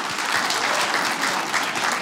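Comedy club audience applauding at a stand-up show, a dense, steady wash of clapping filling the room from start to finish with no talk over it.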